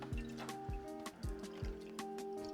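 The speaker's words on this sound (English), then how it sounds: "you're going to want to immediately fill the pan with water again" Water runs and splashes into a cooking pan at a kitchen sink, with a few quick gurgling bursts and a ringing, hollow metallic tone as it fills.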